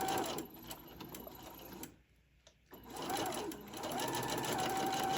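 A sewing machine runs steadily, stitching fabric for a ruffle-trimmed tote bag. The motor whirs close and loud, pauses briefly partway through, then starts up again and keeps sewing.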